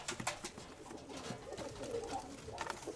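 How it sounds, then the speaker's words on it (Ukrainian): Pigeons coo softly in a dovecote with a blue dove and its chick, low repeated cooing calls close by and faint, without speech. "І ось синя голубка. У них одне голубеня."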